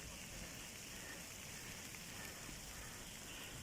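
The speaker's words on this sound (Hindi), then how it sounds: "ये बारिश रुकने वाली तो नहीं है" Steady rain falls during a mountain hike to Mushkpuri top, a faint, even hiss of drops on surfaces with no breaks and no talking.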